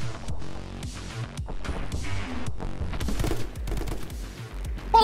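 Gunfire in the side-scrolling shooter My Friend Pedro, with rapid bursts of shots and impacts crackling throughout at moderate volume over game sounds.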